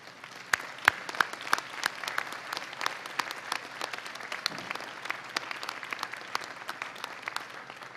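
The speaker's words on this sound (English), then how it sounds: "give them a round of applause for the love and support that made this day possible" Convocation audience at a university graduation applauding families and friends, with sparse, distinct individual claps near the microphone over a soft, steady bed of wider hall applause.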